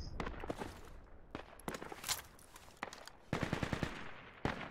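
Video game gunfire in a spec ops squad match, sounding as rapid automatic bursts and scattered single shots that are close and fairly loud, with no voices.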